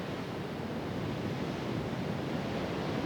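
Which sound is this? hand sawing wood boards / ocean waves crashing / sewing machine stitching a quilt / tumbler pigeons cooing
ocean waves crashing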